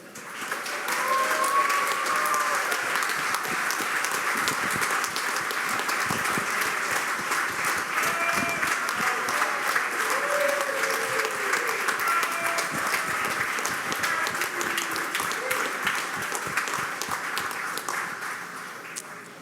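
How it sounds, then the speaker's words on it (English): Warm audience applause for world chess champion Magnus Carlsen of Norway at a closing ceremony, a steady, dense wash of clapping from a large crowd that holds for the whole stretch without pause. "give a warm applause to world champion of Norway, Magnus Carlsen"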